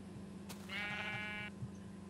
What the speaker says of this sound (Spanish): Dios, ¿y esta cantidad de ovejas?